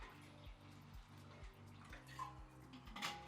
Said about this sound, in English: now I'm going to be adding from Old Faithful flask over here